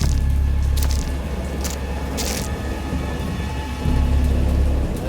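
A thunderstorm in the horror video game Dagon, with steady heavy rain drumming throughout and deep rolling thunder that swells at the start and again near the end.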